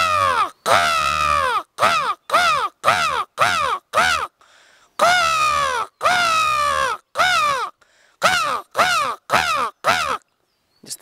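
A person's voice imitates a crow's cawing in a long run of loud, harsh, close caws, some drawn out and others short and clipped, broken by a few brief pauses.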